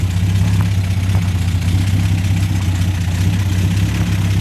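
A Datsun 260Z engine idles on its first start after a rebuild, a steady, even, close low-pitched rumble with a slight lope, running alone without talk.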